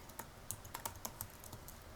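Someone types in short, quiet bursts of crisp keystrokes on a computer keyboard, irregular clicks with brief pauses between them and no talking.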